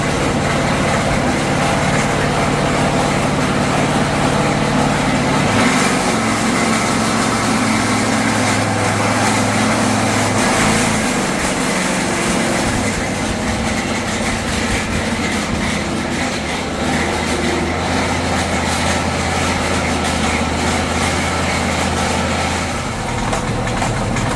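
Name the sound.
Chevrolet Tahoe engine running after start-up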